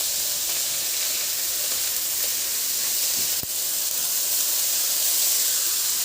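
Onions sizzling in a pan with garlic, frying for a sautéed chayote and tofu dish, giving a loud, continuous hiss with one brief interruption midway, close up and heard alone.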